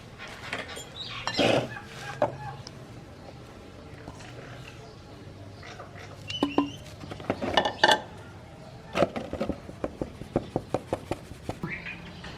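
Flour and baking powder being sifted through a metal sieve for a homemade cake, giving repeated clinking taps and rattles of the sieve against a bowl, with bursts of rhythmic tapping near the end and a voice talking in between.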